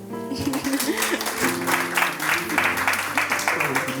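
An audience applauds at an eloquence festival, a burst of clapping that swells after a brief pause and carries on steadily, with a voice speaking over it.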